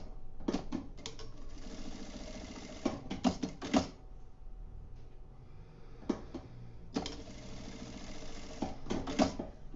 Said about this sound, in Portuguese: E vou passar a costurinha de cada lado.